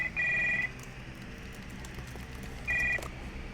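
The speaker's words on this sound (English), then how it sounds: "The phone starts to ring." A telephone rings in the 1980s-style horror game Stories Untold, two distinct electronic ring bursts separated by a pause, heard fairly clearly over a low, murky ambient backdrop.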